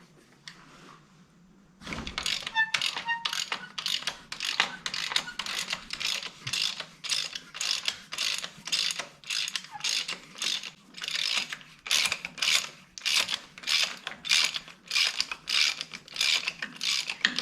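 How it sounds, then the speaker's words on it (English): A hand ratchet fitted with a 15/16 socket works on an injector nut of a Dodge Cummins diesel engine, clicking in a quick steady rhythm of repeated short strokes, close and crisp after a quiet start. "For any of you doing this at home that might be wondering, that is a 15/16 socket."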